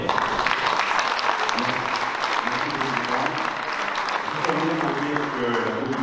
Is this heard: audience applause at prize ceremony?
yes